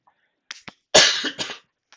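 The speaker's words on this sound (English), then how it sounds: "So excuse me if I do cough a bit." A man coughs in a short cluster of close, harsh bursts, with a brief throat-clearing sound before them and quiet pauses in between.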